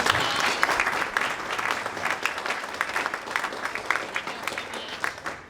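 An audience at a legislative update breakfast claps steadily for several seconds, a warm, even patter of many hands that thins slightly toward the end.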